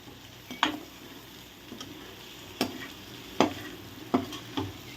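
Boiled, cut pieces of blood stir-fried in oil in a pan: a continuous hiss of frying punctuated by regular, distinct spatula strokes against the metal.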